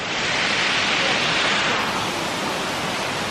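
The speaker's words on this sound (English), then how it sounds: "Here's the big part of the waterfall." Steady, dense roar of rushing water at the base of the big drop of Kuang Si waterfall near Luang Prabang, Laos, heard up close as an unbroken wash with no voices.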